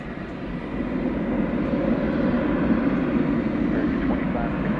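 American Airlines jet in U.S. Airways special livery taking off from runway 18 left at DFW Airport at night, a steady, broad engine roar that stays loud and constant throughout.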